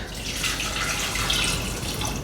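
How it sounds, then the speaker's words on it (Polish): Water poured into a pot of whole carrots for boiling, a steady, close splashing rush that holds evenly throughout with no talk. "Dolewam wody, tak żeby"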